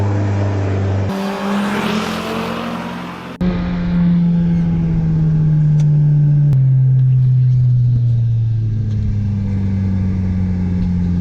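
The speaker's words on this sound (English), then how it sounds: "We got ourselves a 200 bhp leader bike." A 200 bhp motorbike ridden fast gives a loud, sustained engine drone with steady pitch shifts as gears change, heavy wind rush over it, and no voices.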